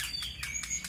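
Black-naped oriole (kepodang) giving a rapid series of clear, bright whistled chirps, loud and close, alone without any talking.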